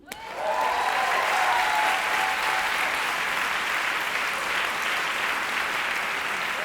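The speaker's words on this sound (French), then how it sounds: "Vous venez d'applaudir un medley du musical Air" A theatre audience bursts into loud, sustained applause after a medley from a stage musical, the dense clapping swelling quickly and holding steady to the end.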